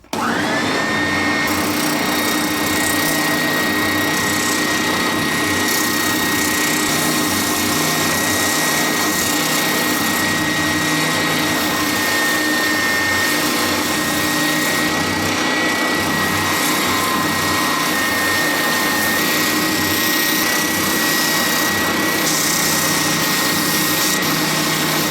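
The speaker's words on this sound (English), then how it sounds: "I'm just going to take it on the drum sander to get rid of these" A drum sander runs with a loud, steady whine while smoothing saw marks from the edges of a guitar body blank, one continuous near tone that holds unchanged for the whole stretch with no talking.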